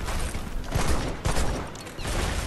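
Double cannon volleys in the virtual-reality pirate battle game Battlewake, with heavy, loud salvos that ring out in a few sharp bursts over a churning roar of gunfire and sea-battle noise.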